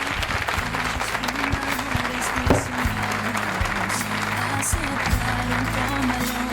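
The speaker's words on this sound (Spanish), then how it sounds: "Este aplauso," At the closing of an education congress, an audience keeps up steady applause, with music or tonal sound running underneath the clapping.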